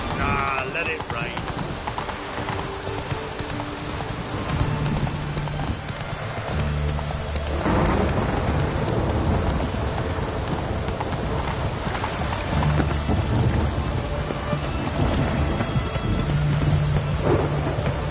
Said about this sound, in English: Ah, let it rain.